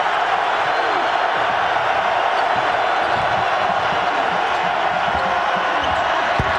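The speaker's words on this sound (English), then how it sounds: "And here comes the crowd at Thompson-Boling." Arena crowd at a Tennessee vs Kentucky basketball game at Thompson-Boling Arena roaring after a three-pointer, a dense, sustained wall of cheering and whoops at full level, with faint court thuds beneath.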